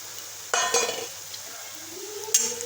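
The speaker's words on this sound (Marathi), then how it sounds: "आता आपण दोन तीन सेकंद तेलामध्ये मस्त हे मसाले आता आपण भाजून घेऊ" Whole spices hit hot oil for a Marathi chana dal dish, giving a quick splashy burst of sizzle followed by a light metallic clink of a utensil, a brief scrape, then a second short sizzle flare, close and moderately quiet.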